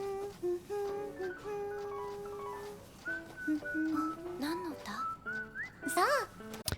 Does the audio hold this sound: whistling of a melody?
yes